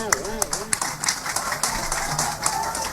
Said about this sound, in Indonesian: kenapa banyak yang tepuk tangan?